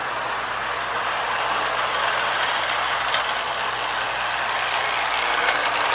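A restored Marx clockwork toy army locomotive runs on its track, its wound motor giving a steady buzzing mechanical whir with a faint ticking gear rattle, close and continuous.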